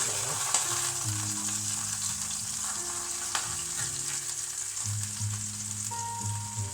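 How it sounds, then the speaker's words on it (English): Onions fry in a pan with a steady, close sizzle and crackle, accompanied by low hums and occasional light clicks throughout. "I'm going to whack the onions in"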